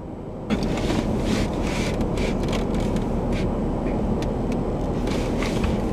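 Road noise inside a moving car, a steady low rumble and wind roar with faint ticks and rattles, loud and continuous throughout.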